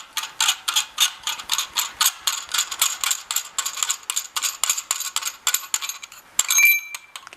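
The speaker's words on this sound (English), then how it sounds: "that's going to allow us to unscrew the lock ring by hand" A billet actuator's lock ring is unscrewed by hand while the actuator sits clamped in a vise, giving a close, steady run of sharp metallic ratcheting clicks at an even rhythm. No voices.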